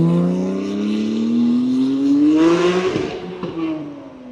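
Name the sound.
car driving a lap past the car meet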